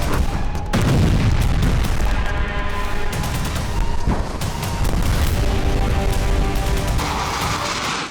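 Israeli airstrikes pounding Lebanon, a loud continuous barrage of heavy booming explosions with sharp blasts and rumbling aftershocks throughout.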